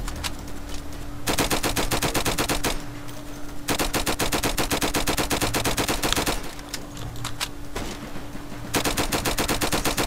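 Gunfire in the Roblox game Flag Wars, long stretches of rapid automatic shots at a steady fast rate, loud and close, broken by short gaps and with no talk.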